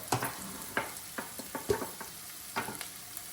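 Onions sautéing with a pinch of salt in a pan for butter garlic broccoli, a soft steady sizzle broken by irregular scraping stirs of a spatula, close and alone with no voices.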